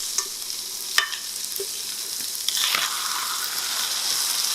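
Spam fried rice sizzles in a hot oiled pan while being stirred, with a few sharp clinks and scrapes of the utensil over a steady close-up frying hiss.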